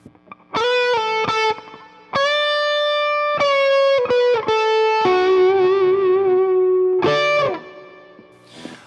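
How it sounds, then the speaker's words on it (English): Kurzweil rack synthesizer set to reverb only with no delay, playing sustained bright, buzzy notes in several held phrases, each tail ringing briefly after release; no voices. "you can hear just the reverb on this."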